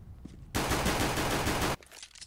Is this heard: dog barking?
no